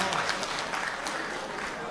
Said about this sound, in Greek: Θέλω ένα χειροκρότημα για τον συγχωριανό μας.